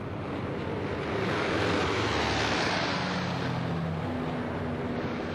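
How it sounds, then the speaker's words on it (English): WWII B-17 bomber planes take off with a dense, continuous roar of propeller engines, a steady broad rumble that swells slightly and holds without a break. "As the planes took off,"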